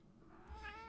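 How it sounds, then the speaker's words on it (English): A single short cat meow, close and fairly quiet, rising briefly near the end of a faint background. "Yes, cat, I know. You are so noisy and needy and noisy."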